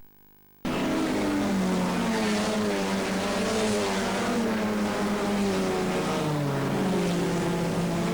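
Race cars roar loudly and continuously from a standing start, Jaguars and a BMW pulling away together, engine tones sweeping upward without pause after a brief quiet moment at the beginning.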